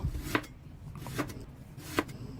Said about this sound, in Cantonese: 再將紅蘿蔔切片，切數塊薑片備用。